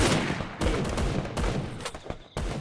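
Rapid gunshots in the Free Fire video game come in several loud, close bursts of repeated fire separated by short gaps.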